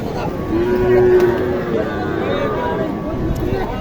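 A thin cow moos once, long and steady, amid the din of a busy cattle market in Naogaon, with crowd chatter and voices continuing underneath throughout.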